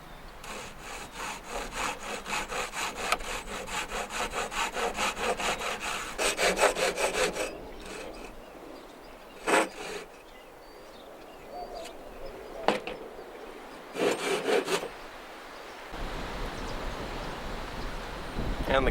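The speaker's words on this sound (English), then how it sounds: "hold the blade of the saw while you're cutting, so it gives you a nice straight cut" A hand saw cuts wood through a straight-cut saw guide while building a hexagon stand for a 55-gallon drum. Steady back-and-forth strokes rasp loudly and close, with short pauses, then a fainter stretch near the end.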